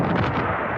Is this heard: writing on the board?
no